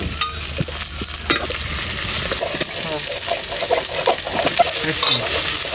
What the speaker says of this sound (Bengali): তো এবার আমি একটু জিরা দেবো, ফোড়নটা, পেঁয়াজ দেবো।